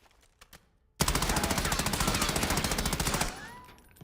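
Rapid automatic weapon fire in a Call of Duty Warzone firing range, a loud sustained burst of evenly spaced shots lasting over two seconds after a couple of faint clicks, ending abruptly.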